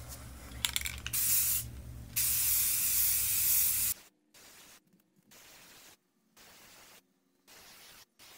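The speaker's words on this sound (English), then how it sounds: "Shake the paint good and let's go." Spray paint can hissing as black paint is sprayed onto light covers, loud bursts of several seconds, then a string of shorter spray bursts separated by pauses.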